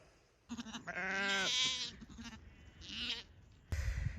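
Sheep and lambs bleat during shearing, one loud drawn-out bleat followed by shorter, fainter bleats, close by, with a brief knock at the end and no talking.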